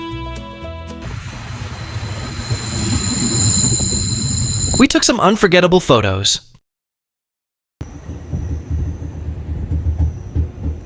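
A Swiss express train runs on its rails with squealing wheels and a steady rolling rumble, while a narrator talks over it before a brief cut to silence and the rumble returns.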